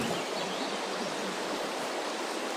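A flowing river at a campsite on Vancouver Island makes a steady, broad rushing wash that stays even throughout, heard alone and fairly close.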